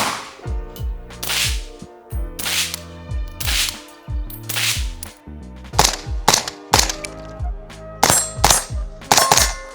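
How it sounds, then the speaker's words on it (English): Suppressed 5.56 rifle shots through a Ridgeback Defense Rhodie 6 suppressor crack out one after another at an uneven pace, sharp and muffled, over a background of music. "So this can is extremely good at sound suppression."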